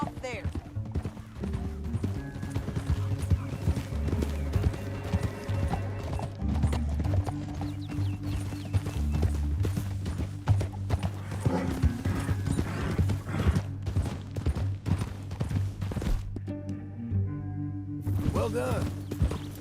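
Hooves clop steadily beneath a layered orchestral game score in Red Dead Redemption 2, a horse moving at pace through a canyon, with a brief whinny-like sound and a faint spoken line near the end.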